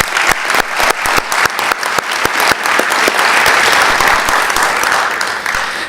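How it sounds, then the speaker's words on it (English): An audience at the Model ICAO Forum applauds the winning teams. Sharp, scattered claps start the round, then build into a dense, loud and sustained ovation before easing off slightly. "I would like to give them a round of applause for winning in their respective teams"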